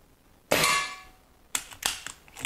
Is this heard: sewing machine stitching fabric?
no